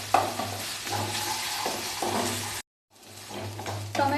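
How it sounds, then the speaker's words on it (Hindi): Pasta and tomato ketchup stirred together in a pan make a close, soft sizzle with scraping stirs. There is a brief silent gap partway through, then the same frying and stirring continue with no speech. "इसे मैं थोड़ा सा चला ले रही"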